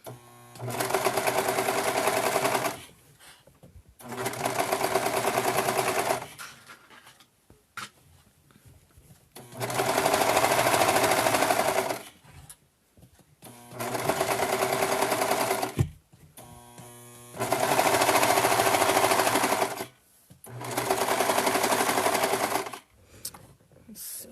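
A sewing machine stitches a sewing machine cover in six loud, steady runs of a few seconds each, separated by brief pauses, close by with no talking.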